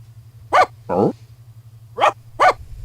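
A dog in a naturally raised pack barks in three or four short, sharp yaps with a brief whine between them, close and loud over a low steady hum.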